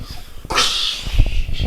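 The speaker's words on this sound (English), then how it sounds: "I'm about to sneeze." A single sharp sneeze bursts out close and loud after a brief breath, followed by snuffling sounds.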